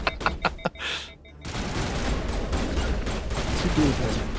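Sniper rifle shots in Mass Effect: several sharp, spaced reports in quick succession, then a brief pause before a loud, broad rush of battle noise continues, with a voice faintly present.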